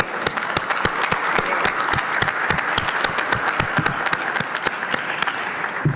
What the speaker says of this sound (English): That deserves a round of applause, I believe.